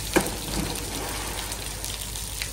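Rain falls steadily during wet weather in Chikmagalur, a continuous soft patter and hiss with a brief louder knock near the start, heard close and without talk.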